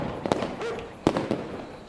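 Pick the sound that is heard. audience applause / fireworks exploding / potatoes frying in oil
fireworks exploding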